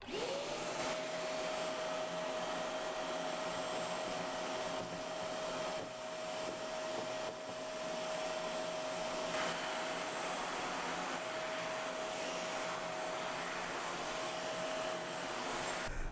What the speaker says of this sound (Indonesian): Oke, dan kita akan melakukan penyedotan